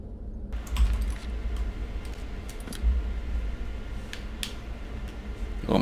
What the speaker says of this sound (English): Oh, my keyboard went all wacky on me here.